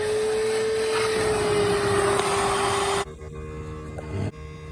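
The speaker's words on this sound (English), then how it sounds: "You can hear the air compressor going on in the background as I am checking the air and the" An air compressor runs with a steady loud drone and a constant tonal hum for about three seconds, then cuts off, leaving a quieter background with a faint hiss and a brief knock.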